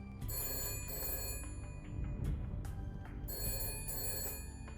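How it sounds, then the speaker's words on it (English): A telephone ringing in the detective video game Shadows of Doubt, repeated electronic bell trills in a steady on-off pattern over a low ambient hum, clear and near. "The phone is ringing again."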